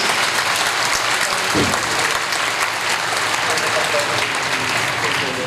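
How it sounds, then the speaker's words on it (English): Graduates at the Ateneo GSB 2015 commencement ceremony give themselves a loud, steady round of applause that fills the hall without letting up. "Let's clap for ourselves, please"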